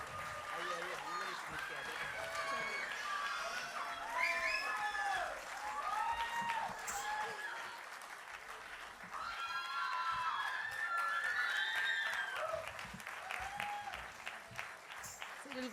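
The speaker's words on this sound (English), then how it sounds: "They're all clapping for you." A crowd claps after a Kathak dance recital, producing a sustained patter of applause that rises and falls over about fifteen seconds, with voices and shouts mixed in throughout.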